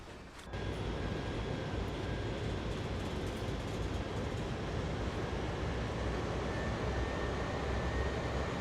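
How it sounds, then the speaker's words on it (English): A heavy-haul CSX freight train in Train Simulator World, a steady, dense low rumble that starts abruptly and holds evenly for several seconds, with faint thin tones riding on top and no talking. "maybe it's my own train making that noise"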